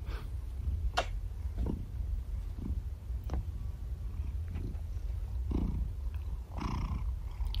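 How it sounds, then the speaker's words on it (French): A steady, close cat purr runs throughout, low and rumbling, with a few soft clicks and small taps on top. "Ça ronronne."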